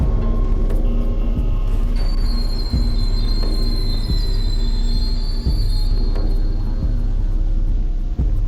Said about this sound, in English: use the whistle to make the train go in reverse one more time